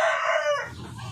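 A rooster crows loudly and close by, its call falling off partway through, with hens clucking quietly underneath.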